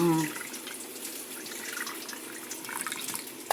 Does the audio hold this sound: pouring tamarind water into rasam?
yes